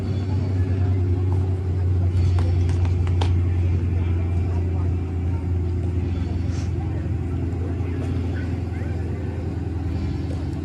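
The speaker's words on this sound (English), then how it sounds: "There's our green Chevelle Super Sport." Green Chevrolet Chevelle Super Sport muscle car at a car show, its engine giving a steady deep rumble, loud and close throughout with faint background sounds.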